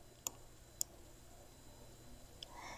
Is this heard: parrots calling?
no